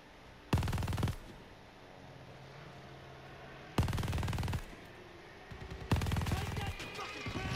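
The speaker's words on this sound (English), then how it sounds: "Guess we're using the turret." A mounted machine-gun turret firing in the Call of Duty: Vanguard campaign: three separate loud bursts of rapid automatic fire, each under a second long, with quieter game ambience between them.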